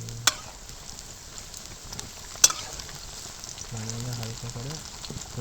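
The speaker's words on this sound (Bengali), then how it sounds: "দেখো আমাদের পকোড়া ভাজা হচ্ছে" Cauliflower pakoras deep frying in hot oil give a steady close sizzle throughout, with two sharp clicks or taps and a short low hum in the second half.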